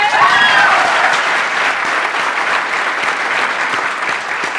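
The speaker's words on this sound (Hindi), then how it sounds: "इन लोगों के लिए जोरदार तालियां" Loud, continuous applause from a large audience at a motivational talk, dense clapping holding steady throughout with crowd noise and no speech over it.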